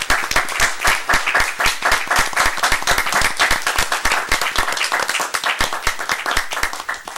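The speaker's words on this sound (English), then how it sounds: "so we can give them a round of applause" Applause at a school district board meeting, distinct sharp claps from a smallish group in a quick uneven rhythm, close and clear, sustained throughout with no talking.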